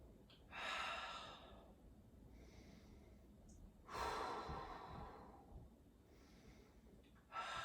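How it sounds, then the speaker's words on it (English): Slow, deep breaths during a yoga pose in a power flow, close and audible: three long airy exhales drawn out over a few seconds each, separated by quieter pauses. "Wherever you are, one more breath"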